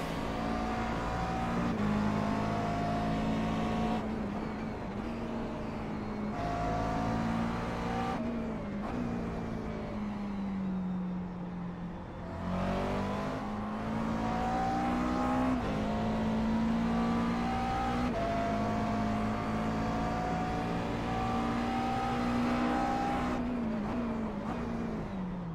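A McLaren MP4-12C GT3 race car in iRacing at Barber, its engine droning steadily and rising and falling in pitch through gear changes and throttle, with a brief dip midway before revving back up, loud and continuous.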